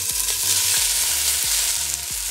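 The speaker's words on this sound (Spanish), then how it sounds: "Ya voy a agregarle los nopales que ya puse a escurrir" Drained nopales go into a pan of whole onion browning in hot oil. A loud, steady sizzle fills the pan, with low, soft knocks repeating through the frying.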